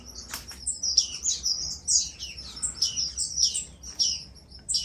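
Small finches, including blue-billed firefinches, diamond firetails, starfinches, parrotfinches and Cuban finches, chirp and tweet steadily in an outdoor aviary on a farm, a dense run of bright calls close by with no voices.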